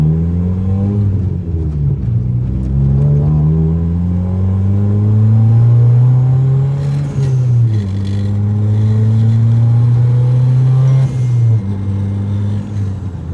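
A turbocharged Honda Civic with a custom full exhaust and blast pipes rumbles and revs repeatedly nearby, its deep exhaust note rising and falling through several throttle blips.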